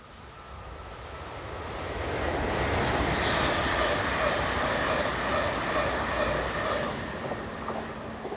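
Karlsruhe-based train units 440, 178 and 179 rumble past on a test run, a broad steady rail roar that swells from moderate to loud and near around the middle before easing slightly, with no voices.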